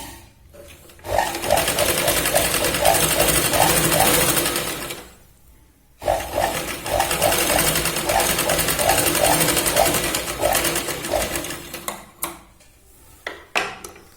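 A sewing machine runs double stitching along the shoulder seam of a Punjabi dress cut from a saree, steady fast rattling in two long bursts with a brief pause between and a few short clicks at the end.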